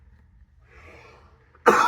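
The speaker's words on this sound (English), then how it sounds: "let me clear my throat" A single sharp throat-clearing cough bursts out at the end, close and loud, after a stretch of faint murmuring.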